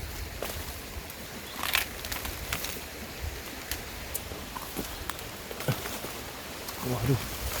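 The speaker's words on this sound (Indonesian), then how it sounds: "Waduh, hujannya deras guys." Heavy rain pours steadily on a steep village path with a long stairway, a constant close hiss of drops with occasional louder patters, and faint voices mixed in.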